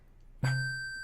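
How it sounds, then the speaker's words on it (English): A sudden synthetic thud opens into a steady ringing electronic tone as video-game doors slam shut, with nothing else around it. "That's the sound of doors shutting."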